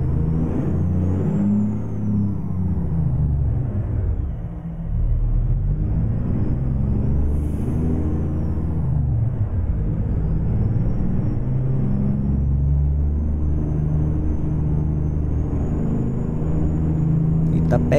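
Mercedes-Benz 1316 truck engine in Euro Truck Simulator 2, hauling a heavy load on a winding mountain road, a steady loud low rumble throughout with someone talking over it.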